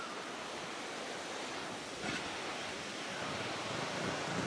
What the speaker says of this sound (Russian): Это вся вода идет к водопаду.